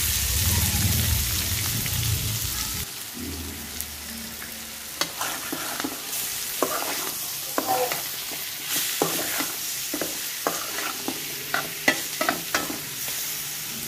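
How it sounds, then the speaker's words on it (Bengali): Dry chillies and onion fry in a pan for a Bengali home-cooked meal, a steady sizzle broken by repeated sharp scraping and stirring knocks from the spatula, close up with no talking. "এখানে শুকনো মরিচ আর পেঁয়াজ দিছি, ভালো করে ভাজবো।"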